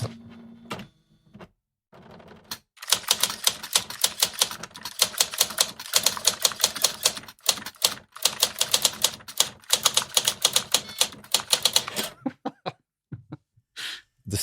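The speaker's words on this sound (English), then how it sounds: "The sound of a 1980s Olivetti electric typewriter brings us seamlessly into Karoo by Steve Tesich" A 1980s Olivetti electric typewriter being typed on, with rapid, loud, closely spaced key strikes in dense runs, brief stops and a few sharper mechanical clacks near the end.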